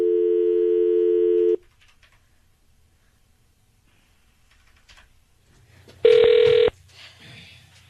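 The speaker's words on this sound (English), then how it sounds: "So let's dial him back up." A phone dialing tone sounds for about a second and a half, followed by quiet, then a single ring burst, with faint background noise between.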